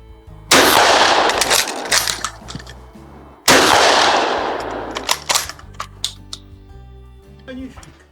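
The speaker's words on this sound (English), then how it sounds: "2 rounds in the 16 gauge Geha Mauser shotgun." A 16 gauge Geha Mauser shotgun conversion fires two loud, close blasts a few seconds apart, each trailing off in a long echoing decay, followed by scattered clicks and handling noises.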